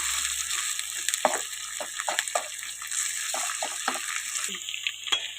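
Ginger garlic paste fries in a pan for prawn biryani, a continuous hiss broken by irregular scraping strokes as it is moved around, close and alone.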